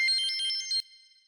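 Telephone ringing with a bright electronic trill, a short burst of repeated tones that cuts off abruptly, heard alone with no talk.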